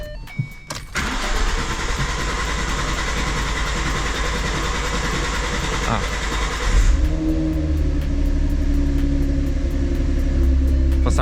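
A car engine cranks with the gas held down, catches after about a second and runs steadily. Partway through there is a louder shift to a rougher running note. It is close and loud, with no talk over it.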